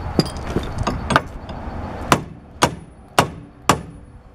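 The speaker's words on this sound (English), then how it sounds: "Now I'm gonna hammer it in." A trailing arm bushing is hammered into a Honda Civic rear suspension, a series of sharp metallic blows, lighter quick taps first, then four heavy evenly spaced strikes ringing loud and close.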